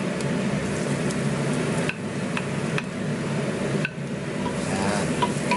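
Garlic frying in a hot pan, a steady dense sizzle that runs throughout with a few faint clinks of a utensil against the pan.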